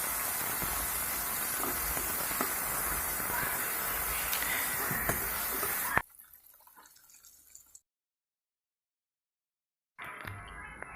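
Chopped tomatoes, two medium ones, stirred and sautéed in a pan for tomato rice: steady hissing sizzle with small crackles for several seconds, then an abrupt drop to near silence.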